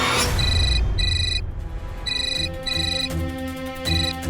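A telephone ringtone chirps in repeated electronic bursts, loud and close, with short gaps between rings.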